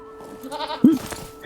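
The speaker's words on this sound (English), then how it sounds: "And how appropriate. My Thornhall goat." A Thornhall goat mount in the online game LOTRO gives a single short, bleating cry, close and clear over a quiet game ambience with a steady background hum.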